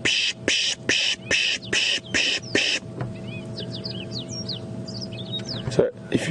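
A person imitates a small bird's alarm call with a run of sharp, evenly repeated squeaky chips, followed by quieter, fainter bird twitters over a low outdoor hum in the African bush.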